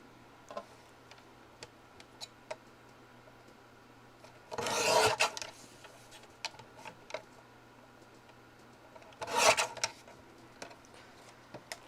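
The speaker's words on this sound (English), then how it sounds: "Let me trim off some of the right edge." Scissors or a blade trim the edge of a stencil in two short, rasping cutting bursts over a quiet background with light ticks and taps.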